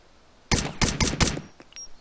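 Gunfire in Arma 2 DayZ Overpoch: after a quiet stretch, four or five loud, sharp shots ring out in quick succession, then fainter reports and a final crack.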